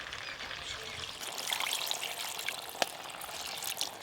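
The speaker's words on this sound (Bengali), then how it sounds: "এবার জল দিয়ে দেবো" Water pours into a pan of potato and chicken curry with masala, a steady rushing splash with light sizzling and a few clinks, close and fairly loud.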